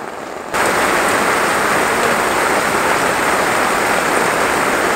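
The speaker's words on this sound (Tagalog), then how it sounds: "Lumakas ang ulan." Heavy rain pours down in a dense, steady roar that swells suddenly louder after a quieter opening moment and keeps drumming without pause.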